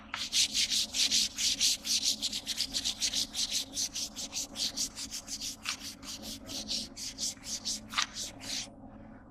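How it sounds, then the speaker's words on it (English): An engine bay part is scuffed by hand before painting, with rapid, rhythmic abrasive strokes rasping back and forth, loud and close, slowing and thinning toward the end before stopping. "See how it's scuffing it up? That's going to make a good surface for the paint to adhere to."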